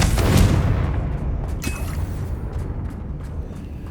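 A fiery explosive spell blast in a video game, a heavy booming rumble that peaks early and slowly decays, with a few faint clicks trailing after.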